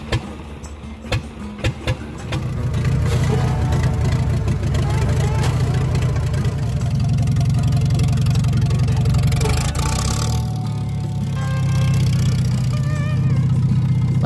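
An old International truck engine runs steadily after an ether start, a loud low rumble settling into a continuous idle after a few sharp bangs at the outset, with background talk.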